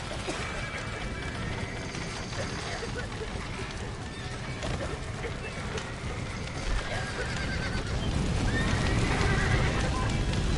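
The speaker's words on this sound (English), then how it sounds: "Stop that dumb horse!" Horses neigh and whinny amid steady clattering hooves and a dense, noisy rush of action in Red Dead Redemption, with voices shouting over the din.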